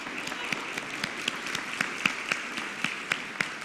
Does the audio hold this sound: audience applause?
yes